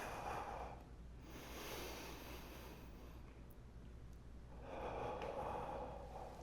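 Quiet, steady breathing during a Pilates reformer strength exercise, with a couple of soft breath swells at the start and end over a low room hum.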